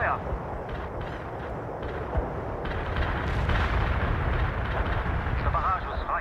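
An artillery barrage in the World in Conflict video game, with booming impacts and explosions rolling steadily in a dense, loud wash, while voices talk over it.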